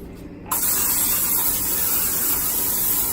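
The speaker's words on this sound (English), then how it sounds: "And you spray it on." Pam cooking spray hisses onto a baking tray in a single continuous, close, loud burst that starts abruptly and holds steady.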